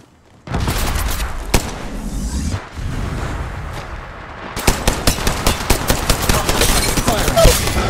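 Rapid bursts of automatic gunfire in a video game, a dense sustained volley followed by a distinct series of sharp, evenly spaced shots, loud and close, with occasional voice lines mixed in.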